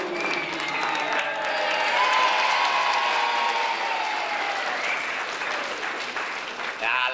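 Audience applause for cabaret performer Paul van Vliet on a Dutch television show, dense and sustained clapping from a sizeable crowd at a steady level throughout, with a voice briefly audible near the end.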